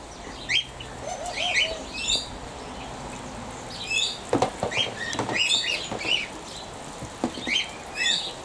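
Barbary doves in an aviary scatter small chirps and soft calls while pecking at thrown peanuts, with brief pattering taps and light wing flutters close by.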